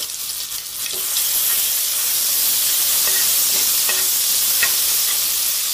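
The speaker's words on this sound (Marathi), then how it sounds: "यामध्ये मी टाकते हिरवी मिरची, आलं आणि थोडी कोथिंबीरचा ठेचा" Green chili, ginger and coriander thecha sizzles steadily in hot oil with mustard seeds over a medium flame, a continuous frying hiss with a few soft stirring scrapes and no talking.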